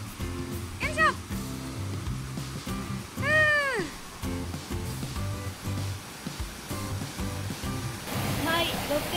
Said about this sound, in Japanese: 沢が目の前に流れていて、川の音を、ね、聞きながら入るお風呂